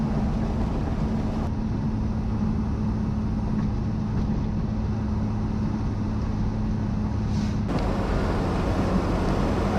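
A Triumph 2500 MK I saloon runs down the steep Bumble Hill road from Kulnara to Yarramalong, recently repaired for gearbox and power steering leaks. It gives a steady low engine drone and road rumble throughout, with no voices.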